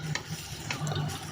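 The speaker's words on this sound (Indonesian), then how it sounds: "saya aduk-aduk hingga tercampur rata" Boiled noodles stirred with seasoning in a pan or bowl, a soft, continuous rubbing and scraping swish at close range with no talk.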